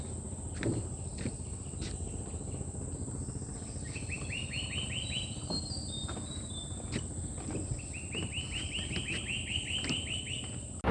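Outdoors by the old Bariya Shahi Mosque in Mirzaganj, Barguna, birds call in short trilling bursts over a constant high insect drone, with a few soft footsteps or knocks nearby.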